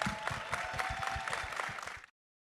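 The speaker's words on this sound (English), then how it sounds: "And a big round of applause." Audience clapping at the close of a live SXSW panel, a short burst of fairly distant, steady applause that cuts off abruptly after about two seconds.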